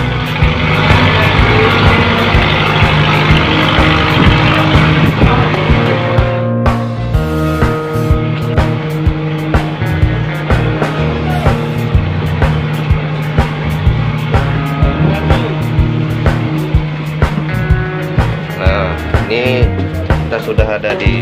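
A ferry's loud, steady engine drone runs throughout with a deep rumbling hum, and the sound changes slightly partway through.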